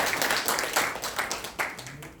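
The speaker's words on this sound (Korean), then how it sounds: "이럴 때 박수 한번 쳐주시죠" A rally crowd at the founding ceremony of a Korean citizens' movement claps in a lively, uneven burst, with a voice speaking faintly underneath.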